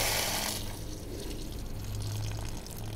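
Water gushes steadily from an opened RV low point drain, a continuous close splashing rush that starts with a loud burst and settles into an even flow.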